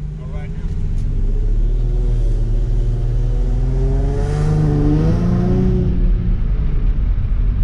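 An Infiniti G35 coupe with a JDM engine runs nearby, a steady loud idle whose pitch rises and falls as it revs briefly, with someone talking over it.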